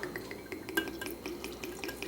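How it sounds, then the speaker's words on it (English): Rum is poured into bottles holding vanilla beans for homemade vanilla extract, giving a soft, close trickle with small irregular splashes and glassy clinks. "You open your bottle of awesome rum. Oh yeah, look at that. And you pour some in."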